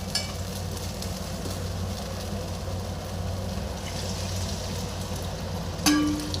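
Chilli chicken sizzling steadily in a pan after a splash of water, a continuous loud frying hiss with a brief sharper burst near the end.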